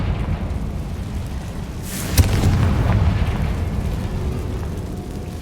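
A Confringo spell explosion in the Hogwarts Legacy video game, a single booming blast over a dense rumbling game background, followed by a lingering low roar, with no talking.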